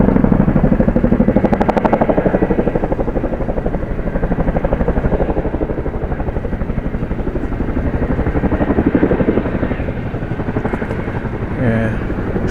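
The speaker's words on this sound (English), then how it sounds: "I think it's a Chinook, I think." Rotor thump and engine roar from a Chinook helicopter at the RIAT Fairford airshow, loud and steady throughout, with a rhythmic chopping pulse and faint voices in the background.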